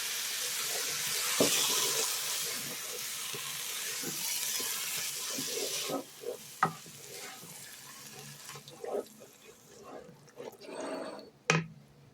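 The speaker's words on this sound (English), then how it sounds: "I'm going to add some water to my jar here too" Water pours steadily into a jar with a rushing hiss, then gives way to sparse drips, clinks and small handling noises.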